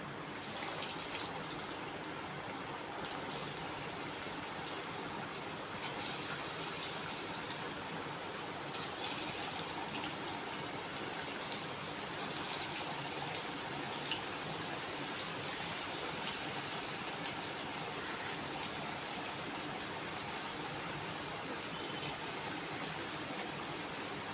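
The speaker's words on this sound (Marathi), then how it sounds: "आता आपण भजी सोडूया तेल बघा चांगलं गरम झालेलं आहे" Corn bhaji fritters frying in well-heated oil on a high gas flame, a steady, dense sizzling hiss that holds evenly near and fairly loud for the whole stretch, with no talk over it.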